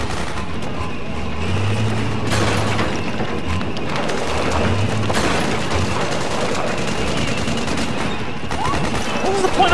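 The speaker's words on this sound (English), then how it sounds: "What was the point of firing them front guns?" Rapid bursts of gunfire from front-mounted guns crackle in a dense, continuous fusillade over a rumbling engine, with a few louder booms and voices talking throughout.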